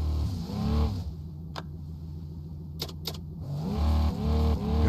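Off-road jeep engine revving in an off-road mechanic simulator game, with front and rear differentials locked, a steady low drone that swells near the start and again at the end, with a few brief high clicks in between.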